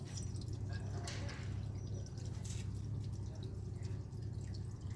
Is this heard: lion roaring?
no